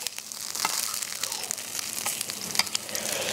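Zucchini fry in a pan with olive oil, a close, steady crackling sizzle broken by small pops and the scrape of stirring; no voices.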